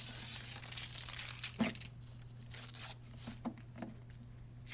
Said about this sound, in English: remove the protective plastic from the control panel and around the scanner glass